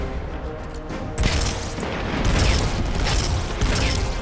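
Explosions in a Destiny 2 strike, booming over one another in a dense, loud burst of rumbling blasts and rattling debris that opens abruptly and carries on to the end.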